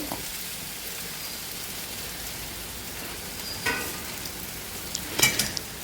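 Grated coconut stirred into brinjal frying in a pan, Thrissur style, giving a steady soft sizzle throughout with a couple of brief scraping stirs near the end.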